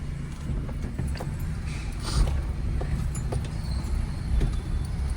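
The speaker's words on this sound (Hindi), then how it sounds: "अब ब्रेक को फ्री करो, धीरे धीरे क्लच छोड़ो, चलो जाओ, धीरे धीरे धीरे धीरे" A car creeps slowly away as the clutch is eased out on a narrow street, a low steady engine rumble with faint rattles and a few clicks, no talking.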